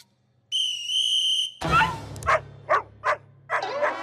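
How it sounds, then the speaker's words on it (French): A single steady, shrill referee whistle blast lasts about a second, followed by a dog's yips and whimpers. "C'est ton sifflet d'arbitrage!"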